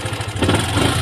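Yamaha Byson motorcycle engine starting after a stalling fault, a loud close rumble that swells steadily over about a second with no talk.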